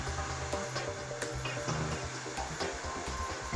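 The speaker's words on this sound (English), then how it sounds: "As soon as a slight milling noise is heard, the feed ring is locked again by means of the 2 clamping levers." A BDS MAB-825 automatic magnetic drilling machine mills steadily, giving a loud continuous whirring motor drone with a faint grinding edge and no pauses.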